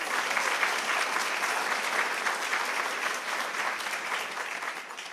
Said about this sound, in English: Let's have another round of applause for all our sponsors